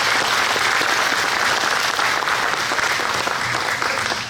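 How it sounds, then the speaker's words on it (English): A crowd applauds volunteers in a thick, continuous wash of clapping, loud and steady for the whole stretch without pauses. "Let's give them a round of applause,"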